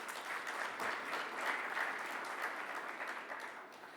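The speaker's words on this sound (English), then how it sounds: "can we have a huge round of applause for them" An audience at a manufacturing summit and awards event applauds partners, dense sustained clapping that stays steady for four seconds and eases slightly toward the end.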